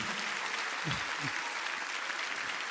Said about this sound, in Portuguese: Vamos aplaudir essas pessoas que estão aqui.